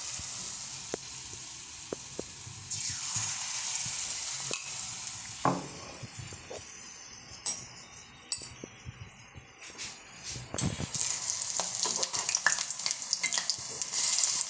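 Cashew nut pakoda frying in hot oil, with a steady bubbling sizzle, scattered stirring clinks and scrapes, and a brighter, louder sizzle as more batter drops in toward the end; no one speaks.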